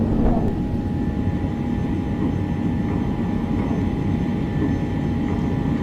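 A steady, loud roar of airplane engines during a video-game takeoff drones throughout with a constant low rumble and faint high whine, no voices.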